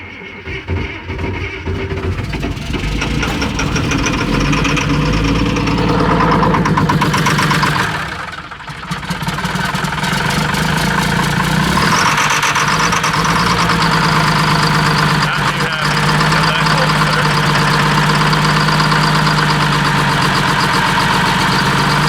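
CAT excavator diesel engine running after a cold-weather start, having sat unused for a long while, with a loud, steady, rumbling idle that dips briefly once and then settles, close by.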